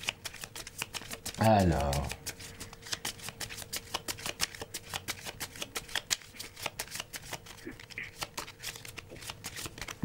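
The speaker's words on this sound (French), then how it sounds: "je coupe le jeu et nous regardons" A deck of fortune-telling cards riffled in one brief, close shuffle during a French clairvoyance reading, followed by quiet room hiss and soft handling while someone speaks briefly.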